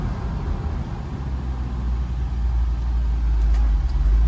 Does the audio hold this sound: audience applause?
no